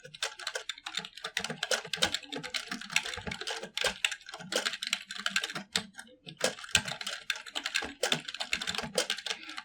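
Rapid, irregular keystrokes on a computer keyboard in a typing practice program, close and clear, with bursts of clicking broken by short pauses and no voices.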